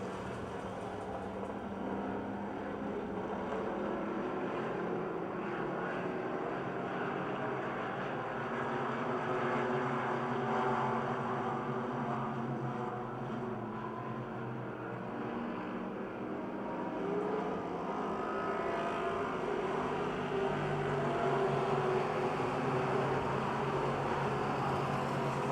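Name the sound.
race cars racing at Pennsylvania Motor Speedway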